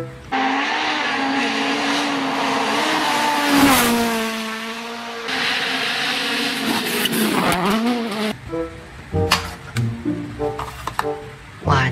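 Race car engines rev and scream past with rising and falling pitch, loud and close, followed by an abrupt cut to choppy, intermittent sounds toward the end.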